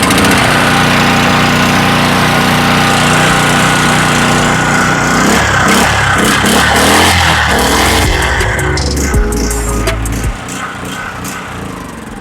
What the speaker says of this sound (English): Basic carb clean, engine starts.